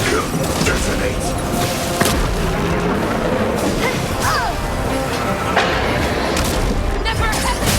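Explosions in the Honkai Star Rail video game: dense, loud, continuous battle noise of booming blasts and crashing impacts, with sharp bangs scattered throughout and game voices over the top.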